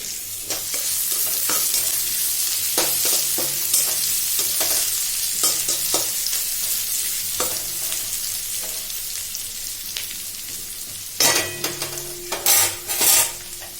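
Spice masala being stir-fried in a pan for kochur loti, taro stolons, with repeated scraping strokes of a spatula over a steady sizzle, then a louder burst of clattering stirring near the end.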